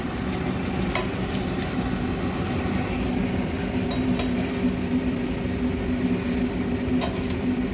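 Food cooks in a pan at home, a steady sizzle under a low hum with a few light clinks of utensils against the pan, close and even throughout with no talking.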